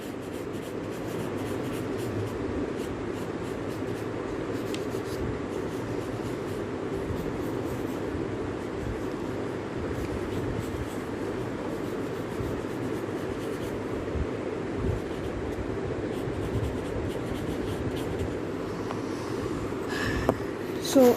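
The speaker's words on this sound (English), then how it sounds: "You can use some black pencil color" Black colored pencil shading a still-life drawing of a basket on paper: a continuous, close, scratchy rubbing of quick back-and-forth strokes that runs steadily throughout with no voices.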